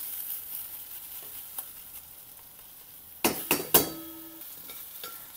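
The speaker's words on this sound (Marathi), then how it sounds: "या स्टेजमध्ये आता मी टाकते किसलेलं आलं" Grated ginger and chilli sautéing in a pan for upma, a faint steady sizzle broken by a few sharp stirring scrapes and clinks near the middle, with no voices.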